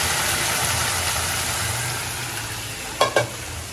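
Bones frying in hot oil give a steady, broad sizzle that holds evenly throughout, with two brief sharper clatters near the end and no talking.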